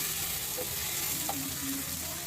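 Tomatoes frying in oil for rasam, giving a steady, close hiss of sizzling oil that fills the whole short moment, with a few soft utensil touches and no speech.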